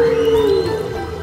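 A sea animal toy plays a whale call, a long, loud, steady tonal cry that slides slowly downward across the whole short stretch, with no talk over it.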